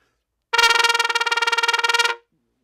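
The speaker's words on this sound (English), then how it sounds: "I call this machine gun tonguing." Machine-gun tonguing on a trumpet: a loud, close burst of rapid, evenly spaced staccato notes on one pitch, fired off for well over a second before stopping abruptly.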